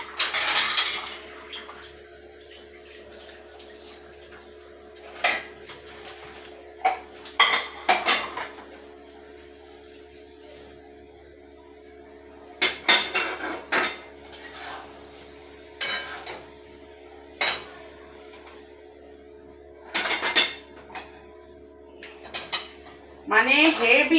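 Sooji being stirred in a pan with ghee, cashews, raisins and capsicum, repeated scraping and clinking of a spoon against the pan in irregular bursts under a steady background hum, with someone talking at times.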